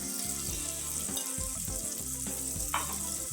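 Masala rice frying in a hot pan as turmeric goes in, giving a steady, close hiss of sizzling oil with faint stirring scrapes and one brief brighter crackle near the end.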